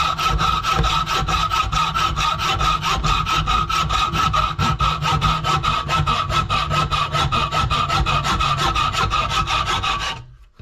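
A cheap bargain-brand hacksaw cuts metal for a John Deere 700J dozer door bumper, a fast, even back-and-forth rasp of stroke after stroke, loud and close, going on steadily for about ten seconds before it stops.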